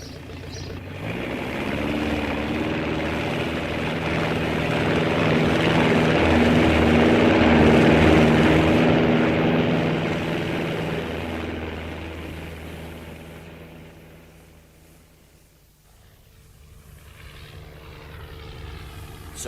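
A propeller airplane engine staged as a radio theatre sound effect, droning steadily as it takes off, swelling loud over several seconds, then fading to near silence before a faint return.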